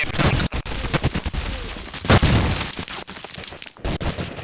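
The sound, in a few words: grenade and gunfire in a shooter video game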